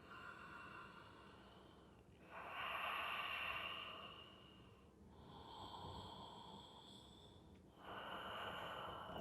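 Slow, deep breaths during a yoga triangle pose, three long airy exhalations a few seconds apart, soft and close with a faint hiss and no speech.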